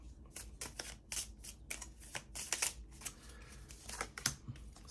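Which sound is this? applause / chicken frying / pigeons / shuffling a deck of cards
shuffling a deck of cards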